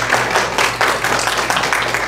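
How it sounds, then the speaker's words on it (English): An audience applauds a discussion panel, broadband clapping filling the room steadily and loudly for the full stretch without a break. "round of applause for the panel"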